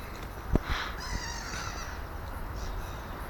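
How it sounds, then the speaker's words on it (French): Black-headed gulls call in a park, giving a few harsh, drawn-out cries at moderate distance over a steady outdoor background, with one short thump near the start. "Là, ce sont des mouettes. Des mouettes rieuses, peut-être. Qui foutent le bordel."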